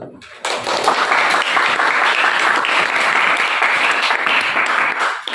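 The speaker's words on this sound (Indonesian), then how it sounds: "Kita beri aplaus." Sustained applause from a classroom audience after a group presentation on avoiding alcohol, dense steady clapping that swells in almost at once and holds evenly for about five seconds before easing slightly at the end.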